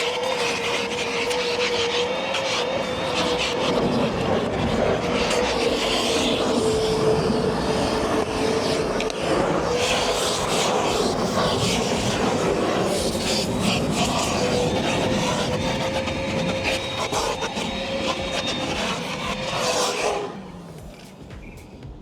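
A cordless Milwaukee M12 Fuel 1.6-gallon wet/dry vacuum runs steadily and loudly for about twenty seconds while picking up debris, a continuous whining roar that drops off abruptly near the end.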